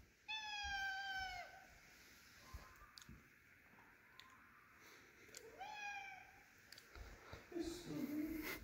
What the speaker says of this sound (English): this is my cat, Scooby